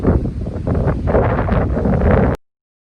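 Strong wind buffeting the microphone on a golf course, a loud rumbling roar with gusty swells that continues for over two seconds and then cuts off abruptly.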